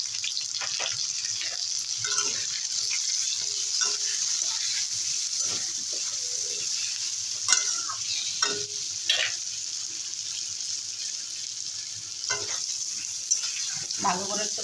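Potato and pointed gourd stir-fry in a pan with grated ginger, Kashmiri red chilli powder, turmeric and salt. A steady, even sizzle runs throughout, broken by occasional spatula scrapes and knocks.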